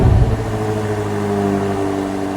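A BMW 4.4-liter twin-turbo V8 fires up with a loud initial catch, then settles into a steady, deep idle rumble close by.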